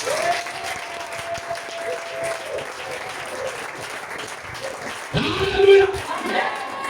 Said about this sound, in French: acclame le roi de Dieu